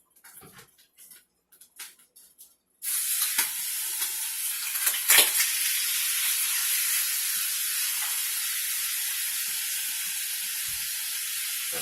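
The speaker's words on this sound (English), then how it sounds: "We're just going to sear that on both sides." Meat sears in a hot oiled pan on a stovetop, breaking into a sudden loud, steady sizzle after a few quiet clinks and handling noises, then hissing continuously with a brief flare partway through.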